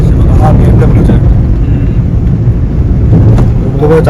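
Deep steady drone of a BMW engine running through an aftermarket exhaust silencer, loud and close, with brief voices and light clatter over the rumble.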